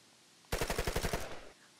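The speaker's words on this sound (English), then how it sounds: "Bro, the gunshots are getting closer to us." A rapid burst of automatic gunfire in the Roblox game ER:LC, about a dozen sharp shots in quick succession, loud and close, lasting around a second.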